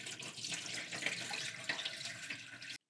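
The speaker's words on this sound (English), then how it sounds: "I wash the rice by letting water in and out, doing this at least 5 times" Tap water runs steadily into a pot of rice being washed, a continuous hissing splash at moderate level that cuts off abruptly at the end.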